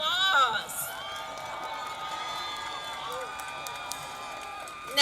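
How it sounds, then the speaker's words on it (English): A graduation audience at Whitehaven High's 2025 ceremony applauds and cheers students, with whoops and raised voices over a moderate, sustained crowd noise, and a louder swell right at the close. "let's give these students a round of applause"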